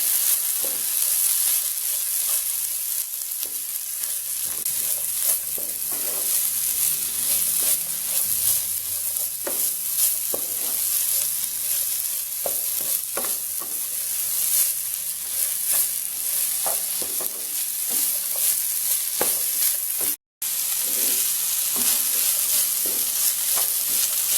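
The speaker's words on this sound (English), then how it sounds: "Add 1 cup of shredded cabbage. Mix it." Shredded cabbage and carrot stir-fried with chicken noodles in a hot pan give a steady, close sizzle with occasional scraping stirs, continuing unbroken apart from one brief dropout.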